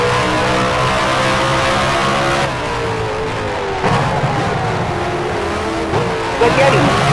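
Open-wheel race cars in the F1 Challenge racing game at the 1966 USA Grand Prix, Watkins Glen, with a loud continuous engine whine rising and falling through gear changes, while a voice talks over it.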